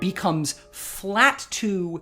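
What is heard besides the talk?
No everyday noises stand out.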